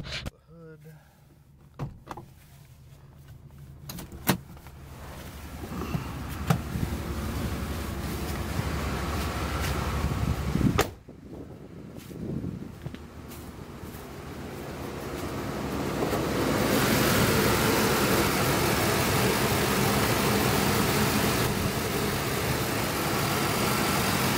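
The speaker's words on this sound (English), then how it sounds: "The air ride just cycled." A 1991 Cadillac Brougham D'elegance idles on a cold morning. A steady engine hum runs under scattered clicks and knocks, then a broad, whooshing air-ride suspension cycle swells and holds through the second half.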